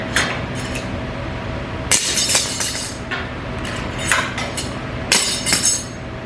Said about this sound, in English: I'm going to take my clamps off now.